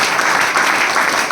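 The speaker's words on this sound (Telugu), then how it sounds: "ఒక్కసారి క్లాప్స్ ఇద్దాం వాళ్ళందరికీ" Steady, loud audience applause at a business meeting, many hands clapping together in a continuous wash with no talk over it.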